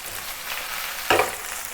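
Beef slices frying in a pan over medium-high heat, a steady soft sizzle with one brief louder scrape or spatter near the end.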